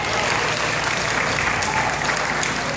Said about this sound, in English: I want us to give ourselves another round of applause